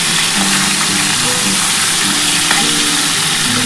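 Catla fish head fries in hot oil with a loud, steady, close sizzle that keeps up without pause, with faint stirring clatter underneath and no voices.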